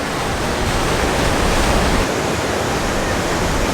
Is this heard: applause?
no